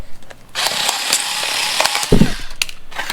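A cordless power cutter on a battery charger and jump starter whirs steadily through cardboard packaging with a ratcheting, grinding buzz, stopping and starting briefly near the end.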